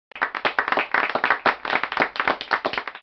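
Rapid applause from several pairs of hands, brisk and steady for a few seconds, close and fairly loud with no voices.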